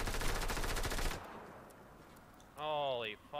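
Rapid automatic gunfire from a gun in a battle royale shooter game, a loud dense burst of shots lasting about a second, then near quiet before a short tonal in-game sound.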